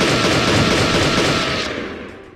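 Loud, dense automatic gunfire from a Special Forces video game, a continuous close burst of rapid shots that fades out after about two seconds, with no talking.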